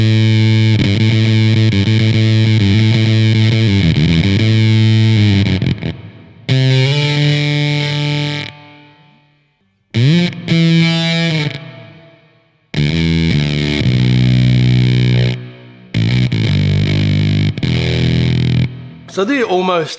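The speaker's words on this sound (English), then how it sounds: "what does it sound like on the bass with the starved voltage?" Bass guitar runs through a Cuvave fuzz pedal on starved voltage, giving a thick, gated, sputtering fuzz. Loud phrases of several seconds each cut off abruptly into brief silences.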